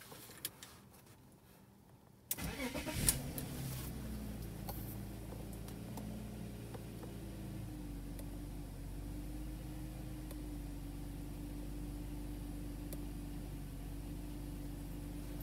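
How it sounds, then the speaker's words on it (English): A BMW E46 engine is started: a short crank catches at once and settles into a steady, even idle, fairly quiet but close, with no one talking. "We're gonna go ahead and start the car."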